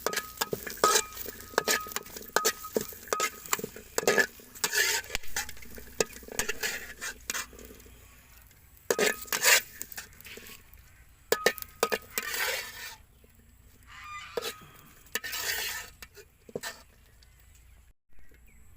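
Fish fries in a pan during home cooking, with irregular clinks and scrapes of a utensil stirring against cookware over an intermittent sizzle, loud bursts separated by quieter stretches.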